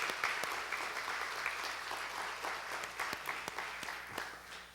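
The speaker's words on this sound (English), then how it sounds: "Let's give our staff a round of applause this morning." A church congregation applauds its staff during a morning service, a steady wash of many hands clapping at moderate distance, continuous and even for several seconds.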